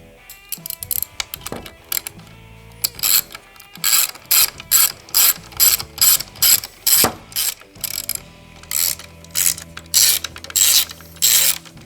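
A 4mm hand tool ratchets as top bolts are tightened on a Sunrider for a hardtop Bronco, with bursts of rapid clicking repeated in a regular rhythm, close and crisp, alone without talk.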